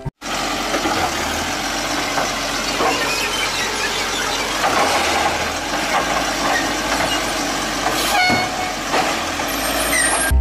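Garbage truck running with a rumbling engine, hissing air brakes and squealing metal, a loud continuous mechanical din with a sharp burst near the end and no voices.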